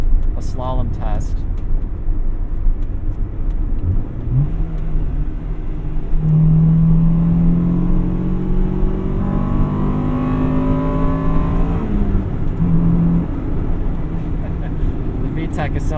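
Inside a 1998 Acura Integra Type R, the VTEC four-cylinder revs up repeatedly, its droning pitch climbing and dropping under close cabin rumble, with a voice briefly audible at the start.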